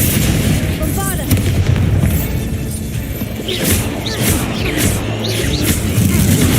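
Confringo and Bombarda spell explosions in the video game Hogwarts Legacy, a series of booming blasts and crashes layered over dense in-game noise and magical swishes.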